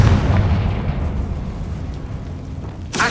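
A Confringo fire spell bursts in the Hogwarts Legacy video game: a loud, rumbling blast fills the start and slowly fades into a low roar, with a sharp crackle near the end.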